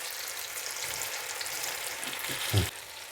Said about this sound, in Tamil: ஒரு 3 பீஸ் நம்ம சேர்த்து பொரிச்சு எடுப்போம்